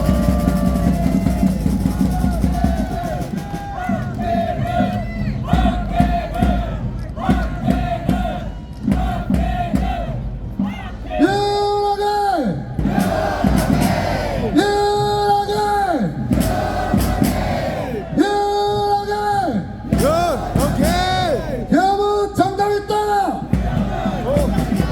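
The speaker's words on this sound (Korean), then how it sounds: "큰 박수로 모시겠습니다." A street rally crowd at a Seoul station plaza shouts and cheers in rhythmic bursts, loud and close, with amplified voices and echoing tones cutting through the noise.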